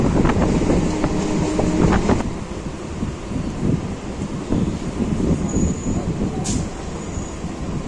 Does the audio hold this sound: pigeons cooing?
no